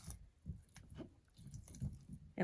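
A hand slaps and squeezes oobleck, a cornstarch-and-water mix, giving a run of soft, wet squishing thuds at an uneven pace, close up and fairly quiet, with no talking.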